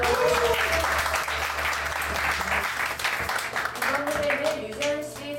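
Applause from a concert audience greets a performer joining a duo for a charity talent-donation show in Daegu, a steady dense clapping that fills the hall, with a low hum and some murmured voices beneath it.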